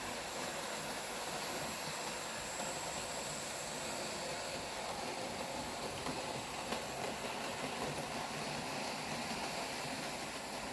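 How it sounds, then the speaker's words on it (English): Model steam locomotives run around a model railway layout, giving a faint, steady rolling hiss and hum throughout with no talking. "As you can see, the little engine's kind of keeping up with the big engine."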